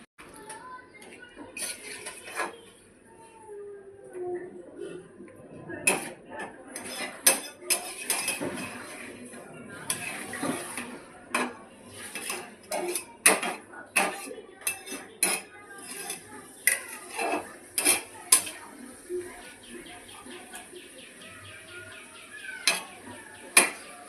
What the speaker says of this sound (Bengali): এবার ঢাকা দিয়ে আরও পাঁচ মিনিট কষাবো কষানোর সময় গ্যাসটাকে মিডিয়াম ফ্লেমে দিয়ে আপনারা কষিয়ে নেবেন